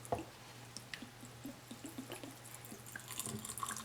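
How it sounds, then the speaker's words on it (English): Clear 100 proof alcohol is poured over herbs in a jar, a quiet, steady trickle with soft drips and splashes running the whole time, low and close, with no voices. "we're going to pour it in until it covers the herb up all the way"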